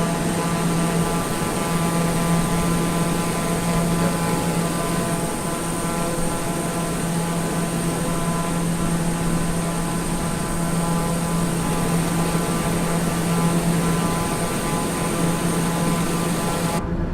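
A TBM 900 single-engine turboprop in a flight simulator game drones steadily and loudly throughout, a constant engine hum with a tonal whine and no talking.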